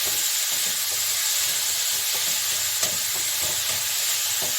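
Banana flower (mocha) frying lightly in a pan, a steady close sizzle and hiss with occasional stirring scrapes, no voices.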